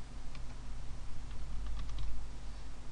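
Computer keyboard typing during setup of an openSUSE 11.3 KDE system, a short run of soft, irregular key clicks at moderate level over a steady low hum, with no talking.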